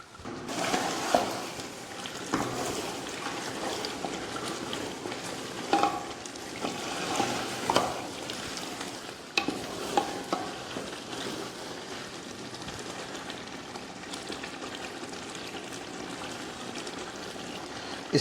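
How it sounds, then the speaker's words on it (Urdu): Beef trotters with black pepper, garam masala and chopped ginger fry and get stirred in a pot, a steady close sizzle with repeated scraping stirs and occasional louder clanks running throughout, no voices. "اس کا اچھے سے ہم نے 5 منٹ بھنائی کر لیا۔"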